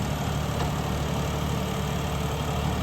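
A steady, heavy tractor diesel engine under full load pulling a 10-foot laser land leveler, droning continuously with a low rumble and constant mechanical vibration, loud and close, with no voices.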